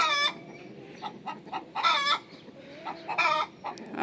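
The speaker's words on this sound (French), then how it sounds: "Et puis alors lui il glousse là-bas." Chickens cluck and call in a garden setting, with several loud, close bursts of clucking spaced by quieter gaps and a steady low background.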